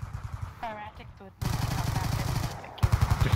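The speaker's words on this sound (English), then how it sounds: "does hear some gunshots through garage" Rapid automatic gunfire in a first-person shooter video game, bursts of loud close shots in quick rhythm with a brief lull, a voice talking over parts of it.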